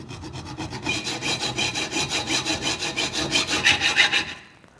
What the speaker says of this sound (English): we're going to just make a little cut down the lip here